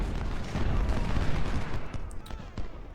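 Rumbling battlefield gunfire and cannon booms from the Civil War strategy game Ultimate General: Civil War, a dense, continuous barrage with heavy low-end thuds and scattered sharper cracks toward the end.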